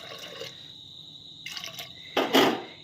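A little water poured into a pot of potatoes and peas while cooking, giving short close splashing and trickling bursts between quieter moments.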